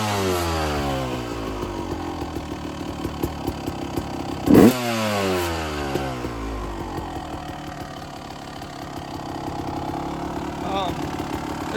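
A 2005 Honda CRF450 dirt bike engine, run after sitting for over six months, idles steadily with a loud, rattly beat, rising and falling as the throttle is blipped, with a brief sharp rev midway.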